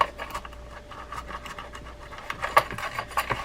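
An Abu Ambassadeur 650 Plus fishing reel scrubbed with an abrasive pad and mild rod-and-reel cleaner, giving close, steady rasping strokes that swell into a few sharper scrapes near the end, with no talking.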